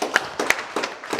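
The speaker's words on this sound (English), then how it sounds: "Let's give her a hand clap." An audience at a business clinic day in Tooro kingdom claps in a few sharp, scattered bursts, a handful of distinct hand claps rather than a full ovation.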